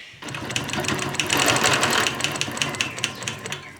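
A sewing machine stitches in a free-motion quilting pass guided by a Petunia ruler, a dense, steady needle chatter running loud and close for several seconds with brief rhythmic bursts near the end.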